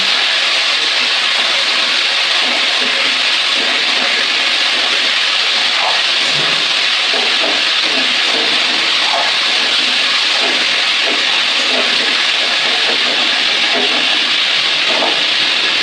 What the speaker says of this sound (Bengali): আমার আলুগুলো ভাজা হয়ে গেছে।